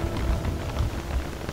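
Steady rain pours in the video game Don't Starve, a dense, even hiss with low rumbling underneath that continues without pause and no voices.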